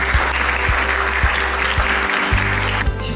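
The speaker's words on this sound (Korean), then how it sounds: "큰 박수로 환영 부탁드립니다." A crowd at the Seoul National University Global Social Contribution Corps 10th anniversary ceremony claps steadily to welcome an opening speaker, with a low hum and soft regular thumps of background music running beneath the applause.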